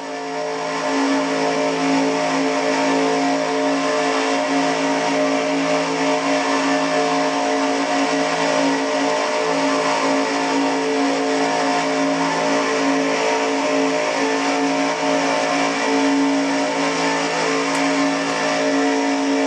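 Stock race car at over 195 miles an hour, heard onboard from a roof-mounted camera, engine droning loud and steady at high revs, pitch barely changing, with wind roar filling the background and no one speaking.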